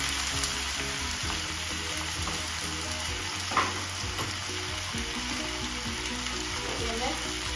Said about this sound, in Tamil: இந்த நேரத்தில் இப்போ நான் இறைச்சியை போட போகிறேன்.